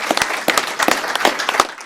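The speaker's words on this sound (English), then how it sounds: "And a round of applause," A small audience at a letter-of-intent signing day claps in loose, uneven bursts, a handful of hands heard nearby rather than a large crowd.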